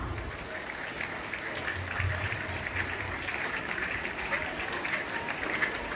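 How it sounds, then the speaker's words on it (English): A crowd of students and teachers claps at a Teachers' Day celebration in a school; the applause is even and fairly soft, sounding a little distant, and carries on steadily throughout. "A big hand clap."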